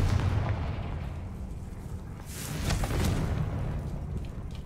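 A Confringo fire spell blasts in the game Hogwarts Legacy, heavy booming bursts with rumbling low roar and a couple of sharper cracks, loud and close, with no talk.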